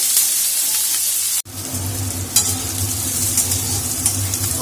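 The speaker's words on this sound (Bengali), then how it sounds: "পেঁয়াজগুলোকে আমার ব্রাউন হওয়া পর্যন্ত একটু ভাজতে হবে" Onions fry until brown in a pan, a loud continuous sizzle and hiss with occasional stirring scrapes and a brief dropout partway through.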